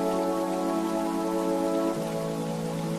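Steady rain falling in a continuous even patter, close and fairly loud, with a low droning hum running underneath throughout.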